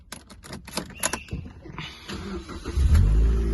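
A Mazda MX-5 2.0i Sport convertible with 92,205 miles starts up: a few sharp clicks and ticks first, then the engine catches and settles into a steady, loud low idle nearby.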